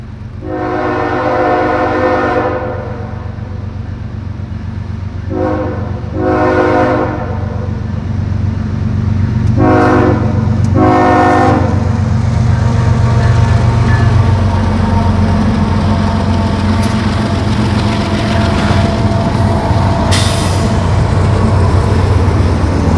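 CSX freight train rolling through the Blue Ridge Mountain loops near Ashford, its horn sounding several long blasts early on while the rumble of locomotives and railcars builds and continues loudly to the end.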